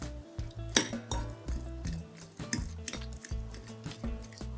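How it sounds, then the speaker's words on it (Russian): A fork scrapes and taps steadily against a bowl, mashing boiled egg yolks with salt and black pepper in a busy rhythm of clinks and knocks, close up with no talking. "Хорошо все разминаю вилкой до однородности."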